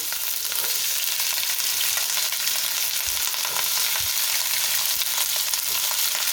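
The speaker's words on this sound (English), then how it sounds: "putting all my ingredients together in a pan of hot rapeseed oil" Curry ingredients for a vegan mung bean dish frying in a pan of hot rapeseed oil, a steady, loud, dense crackling sizzle that continues unbroken throughout with no voices.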